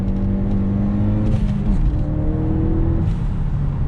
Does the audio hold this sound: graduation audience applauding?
no